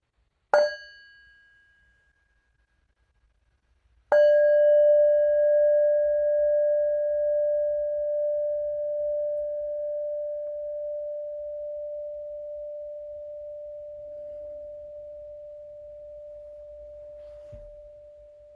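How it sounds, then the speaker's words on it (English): A meditation bell is struck twice, the first a short ring that fades quickly, the second a clear resonant strike with a long sustained hum that lingers for many seconds in a quiet room. "Listen to a sound of the bell."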